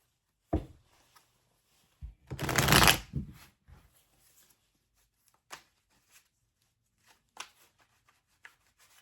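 Tarot cards being shuffled by hand: a few short riffles and taps, then a louder sustained shuffle near the middle, followed by scattered soft card clicks in an otherwise quiet room.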